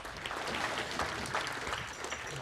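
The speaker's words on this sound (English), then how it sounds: "let's give Parker a round of applause for academic All-State" A banquet audience applauds a high school varsity football player, a steady dense patter of many hands held at an even, moderate level throughout, with no speech.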